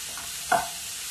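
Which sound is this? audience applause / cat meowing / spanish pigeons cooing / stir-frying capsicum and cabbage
stir-frying capsicum and cabbage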